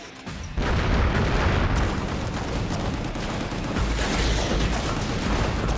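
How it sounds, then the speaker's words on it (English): A rocket launcher fired in the video game GunGrave G.O.R.E, a sudden loud blast followed by a dense, continuous roar of explosions and gunfire that stays heavy throughout. "Shoot the rocket launcher"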